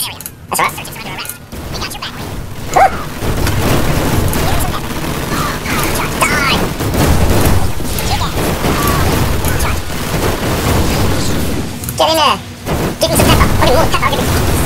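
Weapons firing in StarCraft 2 during the Wings of Liberty campaign, heard as dense booming and crackling combat noise that continues throughout. A person talks over it.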